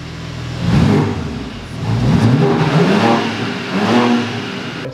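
A BMW engine with an enhanced exhaust revs up and down in a few swelling pulses, with a throaty, resonant exhaust note, close and loud.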